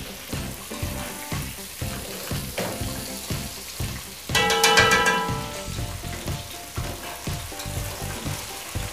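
Skewers cooking in a pan, a steady close sizzle and crackle of frying with rhythmic scraping and stirring, swelling louder for a moment midway.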